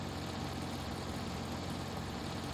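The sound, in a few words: sluggish car engine in video game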